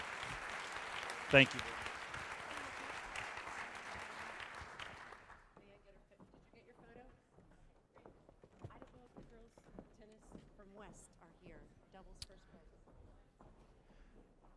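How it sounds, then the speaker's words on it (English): Applause at a school board of education meeting, a broad wash of clapping that fills the first five seconds, then fades into a quieter room where people talk. "Let's give him one more round of applause, please."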